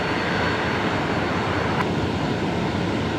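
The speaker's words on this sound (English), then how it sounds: "Next arrival is going to be a Jetstar 321 Neo coming in from Melbourne. They're just about to, they're just on short final." A Jetstar Airbus A321neo airliner arriving from Melbourne on short final into Brisbane Airport gives off a continuous, fairly loud engine roar heard from outside.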